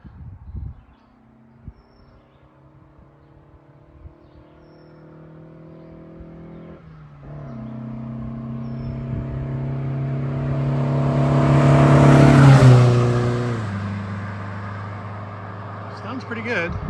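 A 1962 Triumph TR4 with Weber carburetors drives past, its engine rising from faint to a loud roar as it nears, then fading with a drop in pitch as it moves away, with occasional voices in the background.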